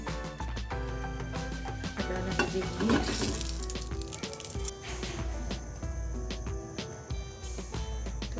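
Ghee heats in a pan with a steady close sizzle and crackle, overlaid by faint background music and occasional light clinks, with no talking.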